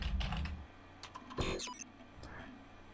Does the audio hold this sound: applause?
no